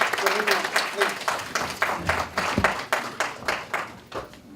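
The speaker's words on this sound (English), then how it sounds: "So please give him a big round of applause" An audience at a Hindi Divas celebration claps in a burst of applause, quick irregular hand claps that build and then thin out.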